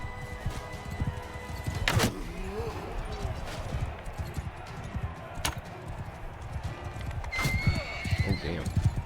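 Horses neigh and gallop in the medieval battle game Bannerlord, rapid hoofbeats running throughout with several loud whinnies rising over battle noise.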